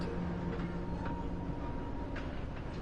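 A moving train in the video game Red Dead Redemption 2 rumbles steadily, with a dense rolling wheel-and-track drone and faint high squeals over a few seconds, no voices.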